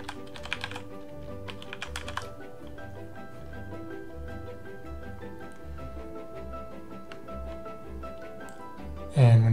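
Close, steady typing on a computer keyboard fills the clip as a pharmacy name is entered into a search field, with quiet software tones and a short thump at the very end.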